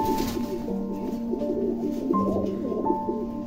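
White Lakha fancy pigeons of a breeding pair cooing at a pigeon farm, a continuous layered burble of low throaty coos from several birds nearby.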